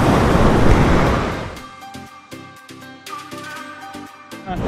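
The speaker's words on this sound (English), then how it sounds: "not many people down here at the beach, just a couple of surfers" Surf breaking on a Sydney beach where people are fishing: a loud, broad wash of breaking water at first that eases into a steadier, softer roar, with close clicking and handling knocks over it.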